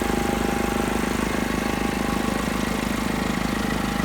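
A John Deere snowblower mounted on a backhoe spins its blade, making a steady, close mechanical drone with a fast rhythmic pulse that holds even throughout, with no voices.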